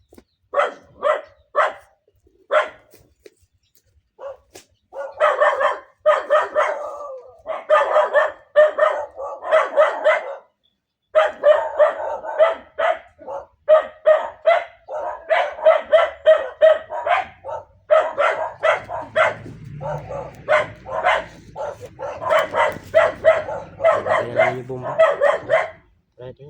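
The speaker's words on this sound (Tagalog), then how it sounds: "Maingay yung aso." A dog barks repeatedly in rapid bursts, loud and close, while people talk and shout nearby.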